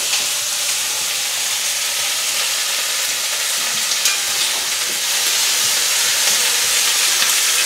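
Bacon lardons fry in a pan for a pork roast with cider, giving a steady, loud bright sizzle and hiss throughout with occasional small pops, no voices.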